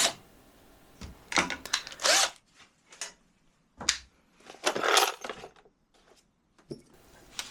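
A power drill whirs in short bursts, its pitch rising and falling as screws bite into wood, with quiet pauses and small clicks between runs.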